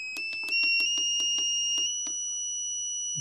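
A piezo buzzer in a clock circuit sounds a steady high electronic tone over a series of about ten evenly spaced clicks, close and fairly quiet, with the tone's loudness shifting slightly as it changes pitch.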